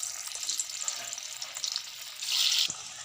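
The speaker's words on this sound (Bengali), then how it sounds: "তেল গরম হয়ে গেছে, আমি ধোকাগুলো আস্তে আস্তে ছেড়ে দিচ্ছি" Pieces of vegetarian lentil cake (dhoka) slid one by one into hot oil, giving a constant bright, hissing sizzle that swells briefly louder near the end, close up with no talking.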